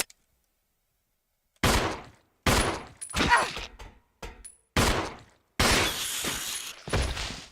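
Gunshots in Resident Evil aboard the Ecliptic Express, fired at plague crawlers: after a quiet start, about eight loud, sharp blasts ring out one after another, each with a brief crackling tail.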